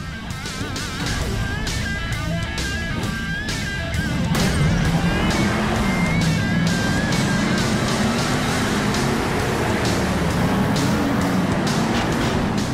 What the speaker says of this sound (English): Now it's time for our 5-truck drag race!